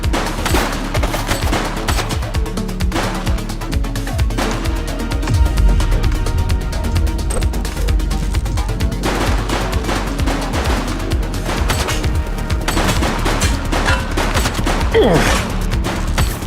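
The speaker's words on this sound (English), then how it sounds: "She's shooting!" A woman fires a gun in The Precinct video game, in sustained rapid bursts of gunfire with crashes and booms over a continuous loud din, with brief shouting mixed in.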